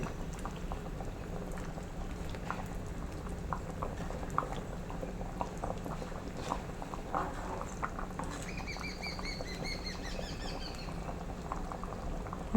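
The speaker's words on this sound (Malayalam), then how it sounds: "നമ്മുടെ കറി ഇവിടെ നല്ലപോലെ തിളച്ചിട്ടുണ്ട്" Mackerel and drumstick curry with gooseberry and mango simmers in a clay pot, a steady low bubbling and patter throughout, with faint bird chirps in the background toward the end.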